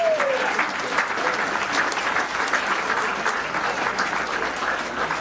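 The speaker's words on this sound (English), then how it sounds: "How about a nice round of applause for the staff here at the Havisham?" Steady applause from a dinner audience for the restaurant staff at an athletic hall of fame awards event, a dense, even clapping that fills the whole stretch without a break.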